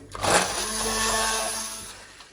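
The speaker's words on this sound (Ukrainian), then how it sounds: "Берете погружний блендер і збиваєте." An immersion blender purees cooked zucchini into a smooth spread, giving a short burst of steady whirring motor noise with churning, close and fairly loud, with no talking.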